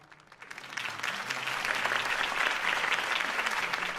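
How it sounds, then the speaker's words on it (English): A crowd in the Batman Telltale Series game applauds after Harvey Dent's campaign speech, clapping swelling quickly from a quiet start into sustained, dense applause that carries on evenly. "could have heard that applause"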